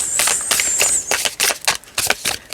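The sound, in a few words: shuffling a deck of tarot cards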